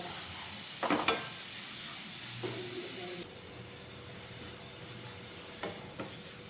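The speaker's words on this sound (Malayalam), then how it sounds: "അര ടീസ്പൂൺ ഉപ്പും കൂടെ ചേർത്ത് കൊടുത്ത് നമുക്ക് സവോള ഒന്ന് വഴറ്റിയെടുക്കണം" Sliced onions sauté with salt in a pan, a soft continuous sizzle broken by a few scraping stirs from a spatula, fairly quiet and close.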